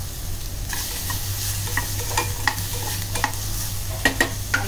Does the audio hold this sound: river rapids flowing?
no